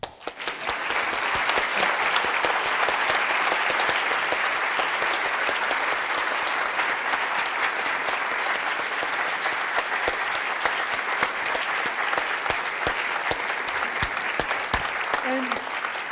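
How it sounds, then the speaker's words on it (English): Sustained applause from a large lecture audience, steady and dense for the whole stretch, with no talking over it. "So I'd like to propose that we clap."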